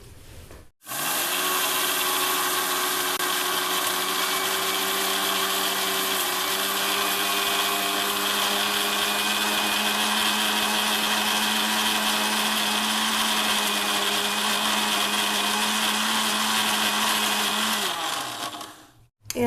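An electric grinder runs steadily for about eighteen seconds, whirring loud and close as it blends green chillies and mustard for pickle with vinegar, then winds down and stops.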